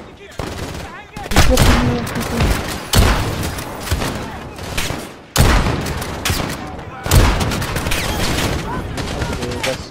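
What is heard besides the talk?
gunfire in a video game battle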